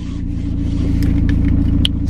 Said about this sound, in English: I'm noticing my car is like making little noises, like when it start.